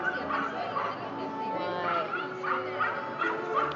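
A small excited dog on an extended leash yaps and whimpers repeatedly in quick bursts, moderately close, with people talking over it.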